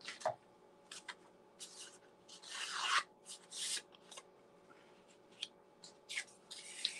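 A trimmer with a dull blade slices through paper in a few short, dry rasping strokes, soft and close, with quiet gaps between the cuts.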